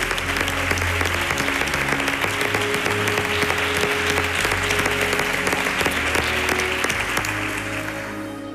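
Sustained loud applause from a television talent show audience for the pianist, steady dense clapping with music underneath that slowly fades toward the end.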